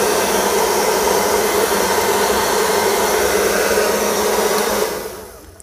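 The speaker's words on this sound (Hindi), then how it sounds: "दोस्तों कुछ इस टाइप से हमने इस वाले हेयर ड्रायर को काफ़ी अच्छे से यहाँ पर रिपेयर कर दिया है।" A repaired handheld hair dryer runs steadily with its heater switched on, giving a loud, even motor and fan whir close by that winds down as it is switched off near the end.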